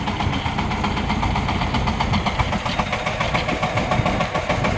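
A Shifeng 350L mini tractor engine idles steadily at close range, a continuous low rumble with a faint knocking pulse and no voices.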